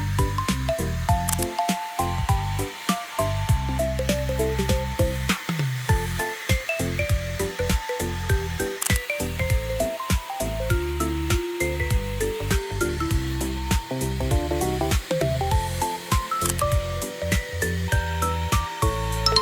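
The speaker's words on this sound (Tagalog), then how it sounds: "uulitin lang natin yung pagbabacuum" A Perry Smith M2 Lite spot cleaner vacuums a dirty seat, its steady, loud motor whine running throughout with shifting pitch and wet squishing, slurping suction gurgles as water is drawn up, heard alone without speech.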